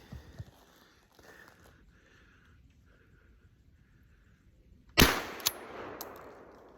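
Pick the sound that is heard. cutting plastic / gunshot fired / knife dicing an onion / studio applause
gunshot fired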